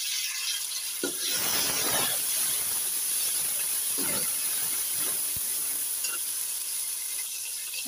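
Onion and tomato frying in a pan give off a constant loud hissing sizzle with steam, broken by a few scraping stirs of the spoon, heard up close with no talk.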